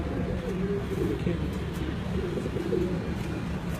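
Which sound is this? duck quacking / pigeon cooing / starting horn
pigeon cooing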